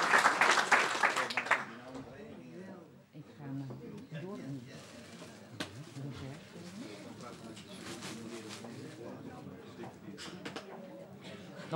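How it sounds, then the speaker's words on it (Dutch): An audience at a Waterland ceremony for the Order of Orange-Nassau claps in a short burst of applause, which gives way to people talking. "U mag klappen, want ik ga hem onderscheiden."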